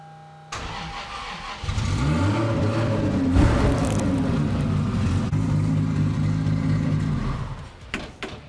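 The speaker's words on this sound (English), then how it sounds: "We're about to fire it up and see if that 17-year-old engine's gonna run." A 17-year-old engine in a Chevrolet Bel Air project car cranks, fires up and settles into a steady, loud running idle with some revving, close by, then cuts off near the end.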